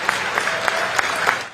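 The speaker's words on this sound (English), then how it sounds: "Others applauding as the hearse drove by." Crowd applauding steadily as the Queen's hearse passes through the streets of Edinburgh, with scattered sharper claps rising from a dense, continuous patter of many hands.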